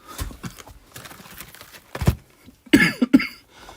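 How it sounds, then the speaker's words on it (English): Several harsh coughs from one person close by, a few scattered at first then a louder burst near the end. "Coughing again."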